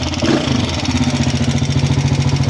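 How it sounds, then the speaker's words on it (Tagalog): A motorcycle engine with a loud internal rattle, like coins inside, idles loudly up close, its steady uneven putter carrying a rapid rattling pulse throughout. "sobrang ingay ng Malagitik. Malagitik ang motor ni Kuya."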